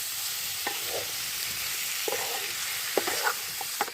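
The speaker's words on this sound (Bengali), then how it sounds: "জিরেটা খুব ভালো করে আবার একটু কষিয়ে নেবো তাহলে আর কি ভাজা ভাজা করে নেব" Cumin and black pepper powder fry in a pan with a steady, soft sizzle throughout, broken by a few light scrapes of stirring.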